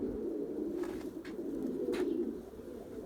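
Pigeons heard outdoors, with soft cooing and a couple of brief wing flutters against a steady low background hum, moderately faint throughout.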